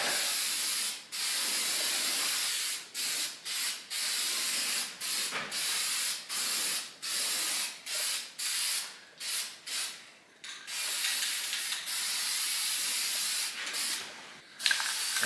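An aerosol can sprays paint onto electric baseboard heaters in short repeated hissing bursts, close and fairly quiet, with brief pauses between passes and a longer continuous spray near the end.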